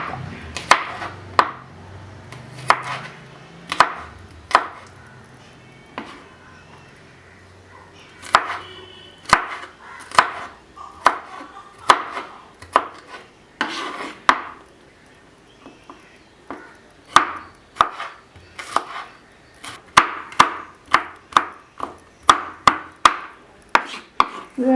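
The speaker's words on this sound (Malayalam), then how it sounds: "ഇനി നമുക്ക് ഇഞ്ചി വെളുത്തുള്ളി ചെറിയ കഷ്ണങ്ങളാക്കി മുറിച്ചെടുക്കാം" Ginger and garlic being chopped into small pieces with a knife on a board for chicken curry, a long run of sharp, close, irregular chops, some in quick bursts, with no talking.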